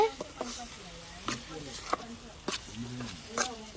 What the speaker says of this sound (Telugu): ఇదైతే ఒకసారి తిప్పుకుంటున్నానండి